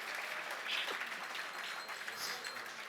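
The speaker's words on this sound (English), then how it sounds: "Just if you wanted to clap there," An audience claps through a presentation, producing a continuous patter of hands at moderate, fairly distant volume. A few louder claps stand out above the steady wash, and faint voices sit underneath.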